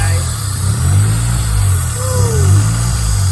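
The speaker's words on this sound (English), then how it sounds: "Car running dry right now" A Honda Civic hatchback engine runs while it needs a new throttle body, during a valve and head replacement. It gives a loud, close, steady low idle hum that swells and dips slightly.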